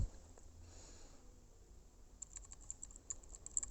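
Rapid, light typewriter key clacks begin after a quiet stretch and keep an uneven rhythm. They sound close and fairly soft against a faint background hiss.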